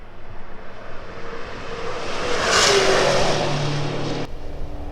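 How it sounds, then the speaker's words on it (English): Car engine revving and passing in the background on a go-kart track that doubles as a drift track, heard from along the Murray River; the engine swells to a peak midway and then fades. "In the background there's a go-kart track, and they also use that as a drift track."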